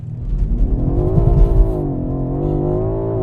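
BMW M5 Competition launching hard under launch control, its engine revs climbing loudly and steadily as the car accelerates away, close and dominant with no voices.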